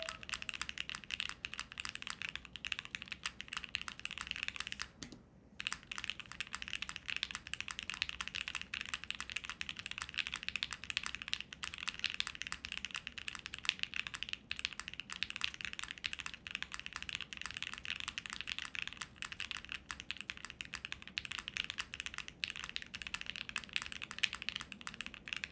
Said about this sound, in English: This is a very soft typing experience as well.